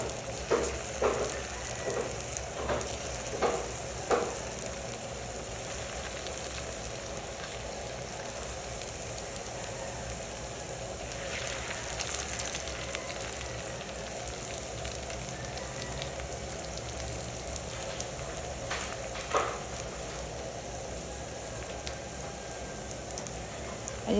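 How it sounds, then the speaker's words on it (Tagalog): Lumpiang togue spring rolls fry in hot oil in a wok, giving a steady soft sizzle like light rain with a few louder crackles along the way, quiet and continuous with no talk. "habang piniprito natin yan"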